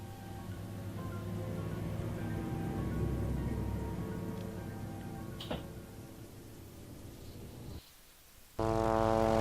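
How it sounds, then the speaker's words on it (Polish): Propeller airplane droning overhead in the zombie survival game Dead Island, a steady low rumble with rising and falling tones that fills most of the stretch, dips briefly near the end, then returns with a harsher buzzing hum. "Samolot!"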